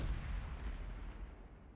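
A cannon fires in a multiplayer combat video game, a dense, rumbling blast with a sustained boom that fills the short moment with no talk over it.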